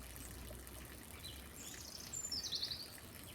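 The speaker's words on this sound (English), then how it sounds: "You can see the trickle of the waterfall and the song of the birds" A gentle waterfall trickles faintly in a spring Japanese garden, and a bird's bright chirps rise above the soft flowing water near the end.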